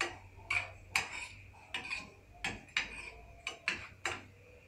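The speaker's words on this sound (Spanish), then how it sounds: "estar revolviendo constantemente mientras el azúcar se disuelve bien" A spoon is stirred through a pot of strawberry jam with dissolving sugar, giving about a dozen clinking, scraping strokes in an uneven rhythm, close and fairly quiet against a low background hum.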